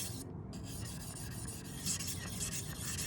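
A one-sided kitchen knife has its back side sharpened, giving a faint, steady rasping rub of steel drawn across a stone, continuous and close for a few seconds with no talk.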